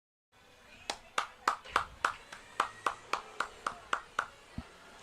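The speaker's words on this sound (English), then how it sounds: "Sorry, I was applauding the forklift drive." Steady hand clapping at a live sports radio broadcast before a Bills vs Patriots game, about a dozen crisp, close claps in an even rhythm lasting several seconds.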